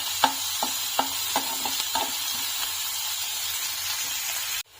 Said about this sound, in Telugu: ఒక 5 నిమిషాలు ఆనియన్స్ బాగా వేయించుకోవాలి